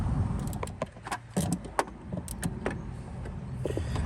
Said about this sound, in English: now we're going to go ahead and start tightening up the bolts